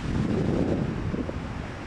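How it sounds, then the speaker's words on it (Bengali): Strong wind blowing in off the sea, roaring steadily and close for the whole stretch with no voices. "সমুদ্রের প্রচণ্ড বাতাসে"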